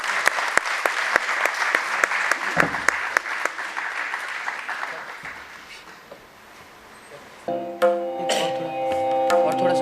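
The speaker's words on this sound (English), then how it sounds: "A round of applause for this." Loud clapping from a crowd at a foundation day session fills most of the clip, fading slightly before music with sustained tones begins near the end.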